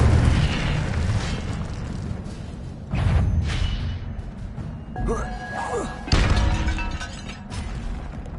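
The Incendio fire spell is cast in the video game Hogwarts Legacy, with loud whooshing bursts and booming impacts in repeated surges over a busy, rumbling combat background.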